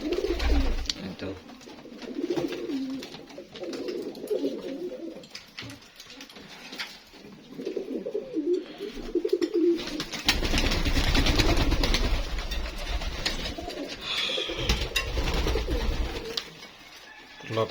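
Fancy tumbler pigeons coo in a loft, low throaty murmurs repeating over a steady background hum, with a voice speaking at times.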